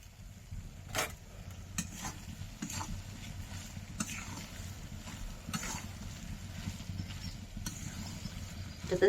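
Fresh pond snails (gugli) being sautéed and stirred in a pan with sugar, cooked down dry without water, giving a steady low sizzle with faint scraping and clinks of a spoon against the pan.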